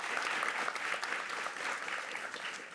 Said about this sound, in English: So let me clap and say thank you so much